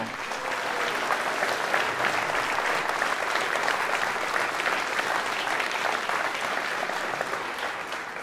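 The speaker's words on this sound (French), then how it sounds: "Je vous demande d'applaudir Françoise Sour." A large crowd at a final campaign rally meeting in France applauds continuously, a dense, even wash of many hands clapping that holds steady for several seconds, heard from a moderate distance.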